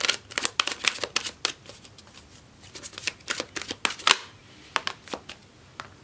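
Enchanted Map Oracle cards being shuffled during a tarot reading, a run of crisp riffling bursts and flicks in quick, uneven rhythm, close and fairly loud, with no talking.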